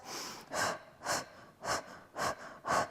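Strong, rhythmic breathing during a Pilates reformer ab workout, six forceful close exhales spaced about half a second apart, each a breathy whoosh with quieter inhales between.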